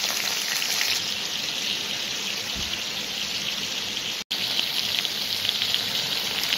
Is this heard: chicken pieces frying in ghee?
yes